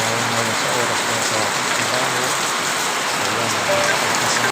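Heavy typhoon rain pours down steadily, a loud dense hiss of drops striking surfaces, constant from start to end with a faint low hum early on.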